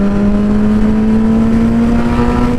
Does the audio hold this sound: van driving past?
yes